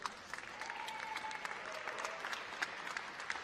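A crowd applauds at a wheelchair dance freestyle competition in Bonn in 2019, a faint, distant, steady wash of clapping with no pauses.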